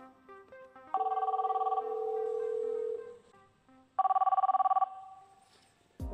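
A GEN-9102N IP paging microphone rings on an incoming SIP call: two bursts of a loud, trilling electronic ring separated by a steadier tone, with faint beeps around them and no talk.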